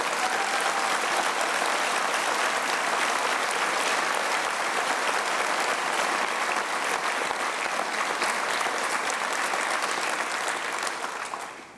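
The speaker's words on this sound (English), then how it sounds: "I want everybody to do a big round of applause for all the parents in the audience today" Sustained, loud applause from a large audience at a 2019 University of Missouri School of Medicine commencement, honoring the graduates' parents, a dense, steady roar of clapping that holds for the whole stretch and tapers slightly at the end.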